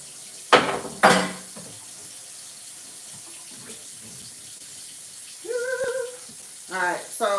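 Items are tossed into a kitchen sink with two sharp clattering impacts near the start, then a quiet stretch, and later running tap water and small rattles close by.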